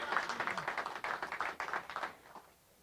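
Applause from a crowd at an outdoor bike work day event, a few seconds of steady moderate clapping that thins out and fades away near the end.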